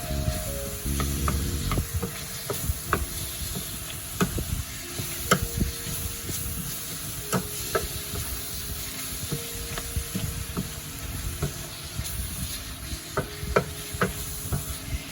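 Shrimp being mixed with sauce in a hot pan: a steady sizzle and hiss runs throughout, broken by irregular clicks and scrapes of a utensil stirring, close and continuous, with no one talking.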